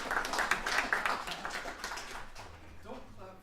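A crowd at an opera panel event in Oakland claps for a pre-recorded panelist. The applause is a steady, dense wash of many hands that thins out after a couple of seconds, with murmuring and voices coming in as it fades.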